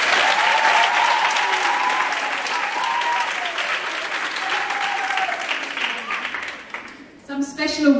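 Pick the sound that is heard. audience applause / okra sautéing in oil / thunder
audience applause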